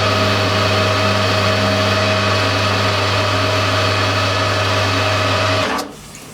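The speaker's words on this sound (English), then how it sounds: "I'm using a long angle lathe file for doing this filing in the lathe" A long angle lathe file works a cast brass machinist hammer head spinning in a lathe, a steady loud hum of motor and rasping file that runs continuously, then cuts off abruptly near the end.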